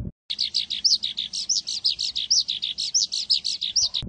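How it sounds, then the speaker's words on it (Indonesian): A Richard's pipit chick gives a rapid run of repeated high chirps, close and clear, about five calls per second with brief gaps between them. "Di tangan saya ini ada satu ekor anakan burung Richard pipit."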